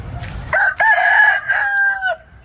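A chicken with an injured, blinded eye gives one loud, close, drawn-out crowing call that lasts about a second and a half, with light rustling before it.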